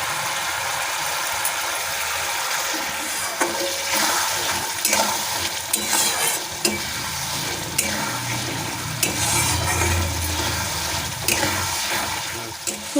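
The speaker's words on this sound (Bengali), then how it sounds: "সরষে বেগুন দিয়ে ভালো করে নেড়ে চেড়ে নিয়েছি।" Aubergine frying in mustard oil while being stirred, with a bubbling sizzle under repeated scraping and clanking of a spatula against the pan, and a watery rush building midway.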